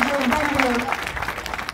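A crowd of former students and guests at an ashram school alumni reunion claps in welcome, dense steady applause filling the short moment and tapering slightly, with voices faintly audible underneath.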